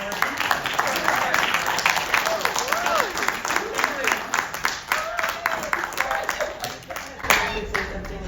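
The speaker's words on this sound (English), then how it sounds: "a big, big round of applause to Sharon Gordon" A crowd at a book launch and signing event claps for a guest, irregular hand claps rising and thinning over several seconds while people cheer and call out over the top.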